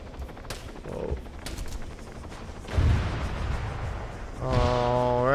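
Gunfire in Arma 3, several sharp cracks spread through a noisy battlefield bed, with a strong low thump midway and a droning, harmonic mechanical tone rising at the end.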